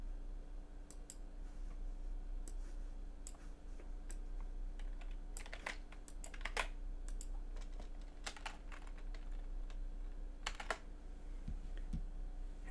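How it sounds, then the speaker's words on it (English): Someone types a program on an Amstrad CPC keyboard, giving sparse, uneven clicks and taps over a steady low electrical hum, close but quiet. "So we're going to type this program in, and I'm definitely not going to use the auto type function."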